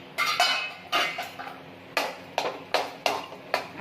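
A metal lid clatters and clinks against a pan of jaggery sheera on the stove, a series of about eight sharp, separate knocks and scrapes spread unevenly over a few seconds, close and moderately loud.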